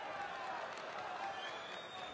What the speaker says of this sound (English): And that's got the crowd going.